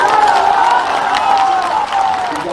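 A large crowd at a Bihar election rally for Chief Minister Nitish Kumar, loud continuous applause and cheering, with an amplified voice ringing over it.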